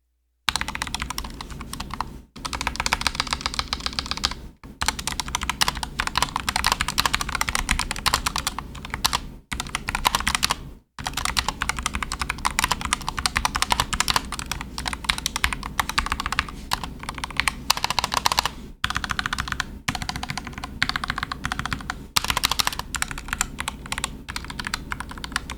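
Rapid, even keystrokes clack on a Turtle Beach Vulcan II TKL Pro keyboard with pre-lubed switches, a dense run of close, fairly soft typing broken by a few short pauses.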